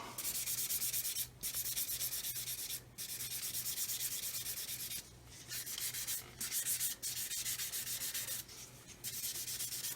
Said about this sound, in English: So now I'm going to get my super sponges out and I'm going to get the 1000 grit. And I'm just going to blend all this out.